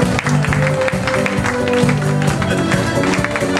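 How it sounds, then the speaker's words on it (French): Wedding guests applauding loudly at a reception, a dense burst of clapping close by that fills the whole moment, with voices mixed into the sound. "on peut les applaudir bien fort"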